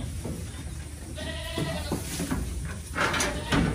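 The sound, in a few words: goat bleating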